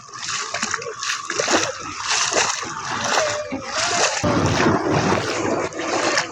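Flood water splashing and sloshing in repeated irregular surges, loud and close, with churning bursts that rise and fall throughout.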